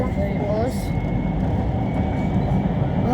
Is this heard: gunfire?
no